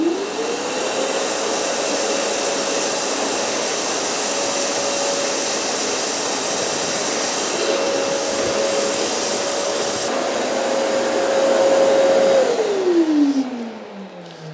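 Festool CTM 26 mobile dust extractor running with a loud, steady whooshing roar and a fixed tonal hum, which swells near the end and then winds down as the motor spins to a stop.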